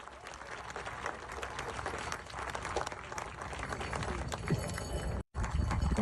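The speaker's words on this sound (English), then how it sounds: "let's give a round of applause to Chief of Curve Lake, Keith Knott" An audience at a Georgina ceremony with Indigenous chiefs and flag bearers claps steadily and loudly for several seconds, a dense wash of applause that cuts off abruptly near the end, then resumes briefly.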